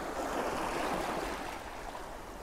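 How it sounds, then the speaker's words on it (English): Small ocean waves wash over rocks in a continuous soft hiss of surf and trickling water, steady and fairly faint, with no voices. "They're not the biggest of waves, but it's still getting a bit of motion."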